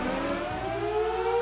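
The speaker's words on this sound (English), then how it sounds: "Today in Firozpur you can hear the test sirens are being done here in Firozpur to be sure that tomorrow everything goes well." Civil defense air raid test siren sounding in Firozpur, Punjab, a steady rising wail with strong harmonic tones that holds loud and continuous throughout.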